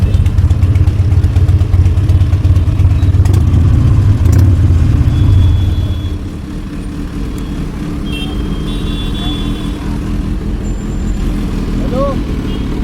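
Harley-Davidson Fat Boy motorcycle engine running steadily and loudly up close, its low rumble easing slightly partway through, with people talking over it.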